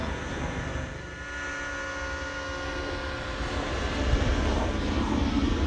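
A radio-controlled model airplane drones steadily at cruise speed, its engine a continuous buzzing hum with a rich harmonic whine that swells slightly toward the end, heard alone.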